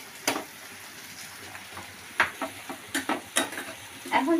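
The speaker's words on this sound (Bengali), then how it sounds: "চিংড়ি মাছ ধুয়ে ভালো করে নুন হলুদ মাখিয়ে ভাজতে গেলে কেন এত জল বেরোয় জানি না" Prawns coated with salt and turmeric frying in a pan, a soft steady sizzle punctuated by several sharp clinks and scrapes of stirring, fairly faint and with no talk.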